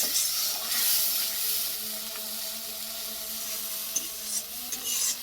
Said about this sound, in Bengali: এখন আমরা একটু নেড়ে দিলাম